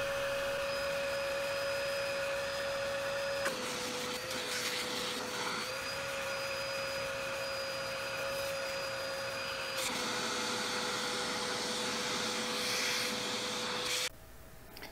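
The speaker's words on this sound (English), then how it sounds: "use the vacuum hose to suck underneath. Do it until you see a lot of black color comes out." A vacuum hose sucks ink from underneath an HP ink cartridge during a refill, giving a steady, close whining drone that shifts slightly in pitch a few times before cutting off near the end, with no talking.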